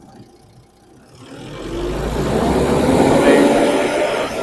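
Car engine revving during a MAP sensor RPM test, idling quietly before climbing into a loud sustained rev that holds high, with a short spoken word near the start.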